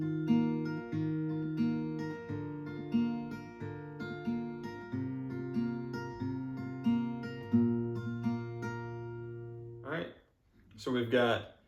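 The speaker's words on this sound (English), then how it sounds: "So guys, I'll just play through this for you with the picking pattern" Acoustic guitar picked in a steady arpeggiated pattern through the chords of a song, ringing clearly and close for about ten seconds, then a brief pause before a short burst of noise or voice at the end.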